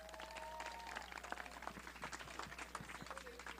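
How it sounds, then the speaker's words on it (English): Small gathering at a girls tennis end-of-season picnic applauding varsity letter winners, scattered faint clapping with irregular distinct claps over a quiet outdoor background and a steady low hum. "So a huge round of applause for our varsity letter winners."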